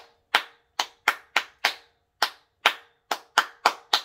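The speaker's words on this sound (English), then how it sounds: "clap your hands, snap your fingers" Hand claps at an Africana celebration: about a dozen sharp, separate claps in an uneven rhythm, each ringing briefly in a reverberant room, with no talking.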